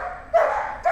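Dogs in a daycare yard give two short, close barks with a brief yip, sharp and loud against a quiet outdoor background.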